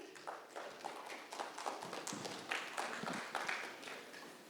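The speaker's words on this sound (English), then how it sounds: "Let's have a huge round of applause for Mr." A round of applause for a panelist at a corporate panel discussion, a dense patter of many hands clapping in a hall, steady and fairly soft, with no talk over it.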